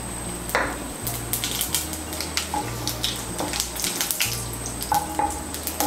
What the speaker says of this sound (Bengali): ফোড়নটা দিয়ে একটু নাড়াচাড়া করে নিয়ে